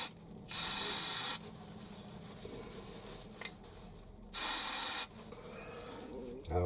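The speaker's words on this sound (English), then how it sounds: "So clean with brake cleaner. Well, in fact, this is carb cleaner." Two loud hissing bursts of carb cleaner sprayed through a hole in a part of a Stuart Models S50 model steam engine, each about a second long and close by, separated by quiet handling noises.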